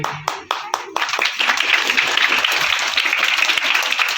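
At a felicitation ceremony held at a village primary school, a few single claps lead into loud, continuous applause from the gathered audience, dense and close, holding steady to the end.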